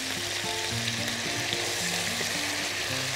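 Sausage fries in its own rendered fat with a steady, dense sizzle and crackle that runs unbroken from start to finish, close and fairly loud, with no voices.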